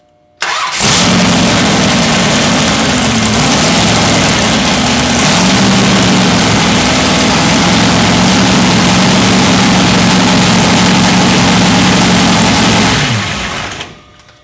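An engine starts and runs at a loud, steady idle, pumping oil through a clear filtration assembly. The even, mid-pitched mechanical drone holds for about thirteen seconds before it shuts down.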